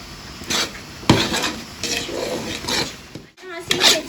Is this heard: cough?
no